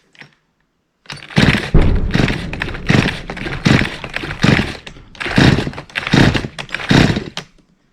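A faulty petrol chainsaw being started, giving a run of loud, rough, irregular bursts that surge and drop for several seconds after a brief quiet opening.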